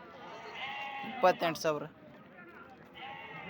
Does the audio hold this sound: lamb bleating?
yes